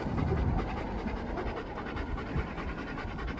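A mangy dog in the back of a vehicle at night pants rapidly and steadily, close and fairly loud, with no talking.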